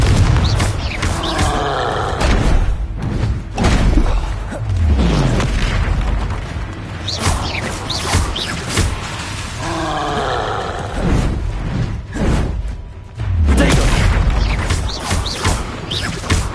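Repeated booming blasts from the Confringo spell in a Harry Potter wizard video game, several heavy explosions with rumbling tails spread across the stretch, loud and close, without talk.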